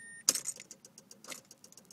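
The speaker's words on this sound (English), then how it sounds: "I go to start my car, put the key in" A key clicks and turns in the ignition of a 2005 Mazda 6 that won't start, followed by faint, quick clicks and relay ticks with no engine catching.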